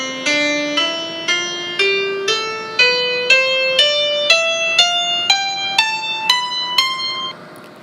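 A clear ascending melody of about a dozen separate plucked or struck notes steps upward in pitch one after another at an even pace, then fades out with no voices.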